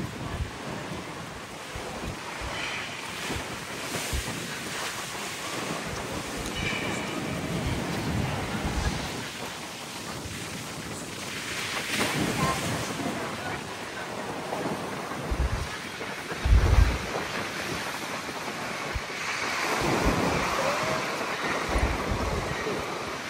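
Outdoor wind and rushing ocean water noise at Coco Cay in the Bahamas, like surf washing in and out, with a few low thuds; no talking.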